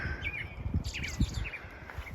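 Several birds chirp and tweet in quick bursts nearby on the Appalachian Trail, with soft rustling and footsteps-like thumps underneath.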